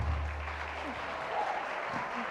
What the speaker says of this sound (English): Okay, a round of applause for that.